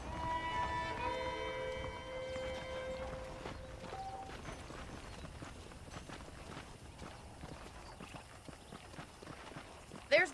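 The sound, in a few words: horse hooves clip-clopping while riding, from the video game Red Dead Redemption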